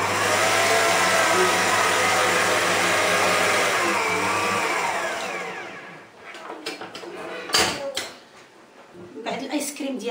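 Electric mixer whipping cream with yogurt for homemade ice cream, a loud steady whir for the first half that stops, followed by clattering of bowl and utensils.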